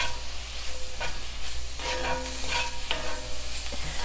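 Mushrooms with oregano tossed in a hot pan, a continuous close sizzle broken by several clattering stirs and tosses, with no talking.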